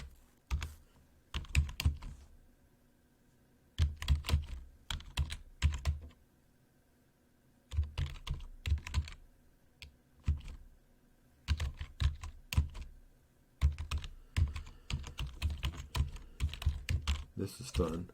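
Bursts of rapid keystrokes on a computer keyboard, clicking in quick clusters separated by short pauses, close and fairly quiet.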